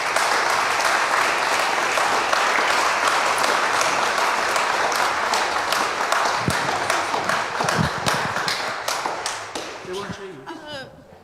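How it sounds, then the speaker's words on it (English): Audience applause fills a church hall at a voice choir Christmas concert, dense steady clapping that thins and fades out over the last seconds as a voice begins to speak. "Give them another round of applause, please."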